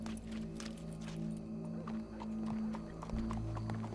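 Hooves clop irregularly at close range in Red Dead Redemption 2 over a low background hum, with a faint horse snort or whinny mixed in.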